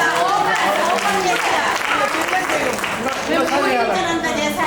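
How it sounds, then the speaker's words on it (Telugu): An audience at a 70th birthday celebration claps after a dance performance, a dense, loud burst of applause lasting throughout, with some crowd chatter mixed in. "claps everyone"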